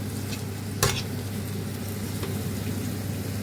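Steady sizzling of vegetables and mushrooms frying in a pan, with a sharp clatter of stirring near the start and softer scraping afterward.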